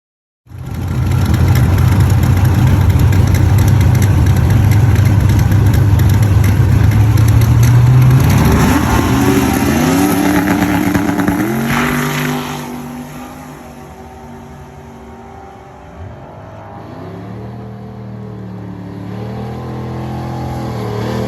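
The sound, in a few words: twin turbo Chevrolet S10 truck making first pass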